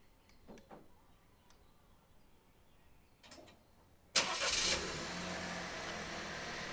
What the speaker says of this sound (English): So let's go ahead and remote start it again.